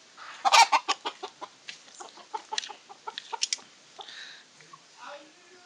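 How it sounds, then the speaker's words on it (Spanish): Fighting roosters cluck and squawk in a rapid series of short calls in San Agustín, Huila, Colombia, fairly close, with a crow-like cry near the start and quieter clucks trailing off. "Tenemos los gallos de pelea."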